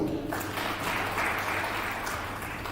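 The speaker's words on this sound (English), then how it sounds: "A round of applause." Audience applause at a formal meeting on transboundary animal diseases, a steady, even wash of clapping lasting a few seconds with no voices over it.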